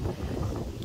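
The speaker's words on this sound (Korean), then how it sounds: "이 바람 소리 들리시죠?" Strong typhoon wind gusting through an apple orchard in southern Korea, a steady loud roaring rush of air buffeting the microphone for a brief moment.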